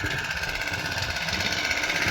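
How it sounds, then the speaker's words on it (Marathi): A petrol engine pump on a crop sprayer runs steadily in a field, a continuous buzzing, rattling drone at constant speed with no pauses. "पेट्रोल पंप काय बंद झाला नाही बघू शकता अजून पेट्रोल पंप चालूच आहे"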